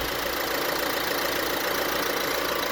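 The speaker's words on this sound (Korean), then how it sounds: "디젤 소리는 확실히 나요." A Chevrolet Malibu 1.6 diesel engine idles steadily with the bonnet open, a dense, continuous mechanical clatter and hum, close by and unchanging, with no voices.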